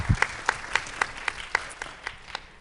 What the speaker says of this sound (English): So let's give a warm round of applause for Mr.